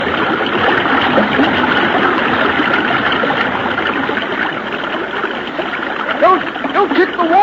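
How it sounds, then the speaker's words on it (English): Feet kick at river water while swimming in a current, a choppy run of splashing and sloshing heard up close, with louder splashes near the end and voices speaking over it. "Don't kick the water so hard."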